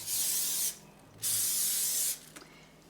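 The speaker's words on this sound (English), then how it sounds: "I am going to spray it again because that made everything come out" Cooking spray hisses onto a hot Cucina Pro corn dog maker in two close, loud bursts, the first about 0.7 s, the second a little longer, followed by a faint click.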